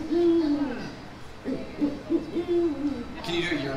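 A person imitates a barred owl's hoot with a series of low, rhythmic hooting calls, close and fairly loud.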